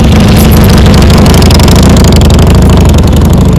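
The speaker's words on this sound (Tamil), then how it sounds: "இன்னைக்கு நம்ம பார்க்க போற வண்டி Harley Davidson." Harley-Davidson 883 Super Low motorcycle engine idling, a loud, steady low-pitched rumble with an even throbbing pulse, close by and alone without any talk.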